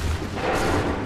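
A musket volley in Assassin's Creed III during a barricade battle gives a dense, loud, rumbling burst of gunfire that fills the whole moment, with no speech.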